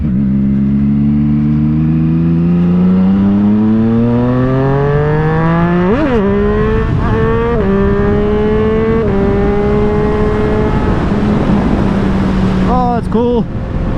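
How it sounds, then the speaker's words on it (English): A Triumph Street Triple 765RS motorcycle fitted with an SC Project exhaust, engine note climbing steadily as it revs, with sharp throttle blips and rising pitch sweeps, loud and close throughout. "you listen to the RPMs and what the bike is doing"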